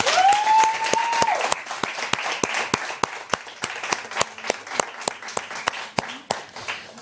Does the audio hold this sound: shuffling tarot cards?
no